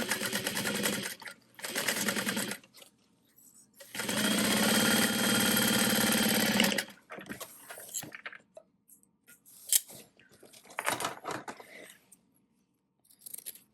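A sewing machine stitches a shoulder bag seam with a half-inch seam allowance through interfaced fabric, running in short bursts and then one long steady run of close, loud motor whirring, with quiet handling sounds in the pauses.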